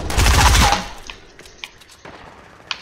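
Gunfire in the Fortnite battle royale video game: a loud burst of rapid shots at the start, then a few sharp isolated pops and clicks trailing off, with no talking.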